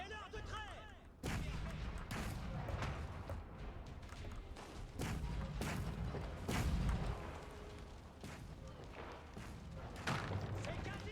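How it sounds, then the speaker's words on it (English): Cannons firing in the Age of Empires IV strategy game, a run of heavy booming blasts and thuds repeating every second or two amid battle clatter, with a voice talking over them. "Give me cannons that can shoot as far as the trebuchet."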